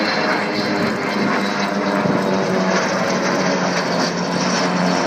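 Small aircraft fly in formation alongside the Avro Vulcan XH558 at the RAF Cosford Airshow, a steady, loud propeller and engine drone that fills the whole stretch without a break.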